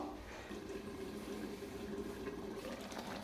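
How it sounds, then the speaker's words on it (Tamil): Water pours into a pan of spiced mutton during cooking for Tamil-style mutton varuval, a steady soft splashing and trickling that continues for about three seconds with no talk. "மட்டன் வேகிறதுக்கு தேவையான அளவுக்கு தண்ணி சேர்த்துக்கலாம்"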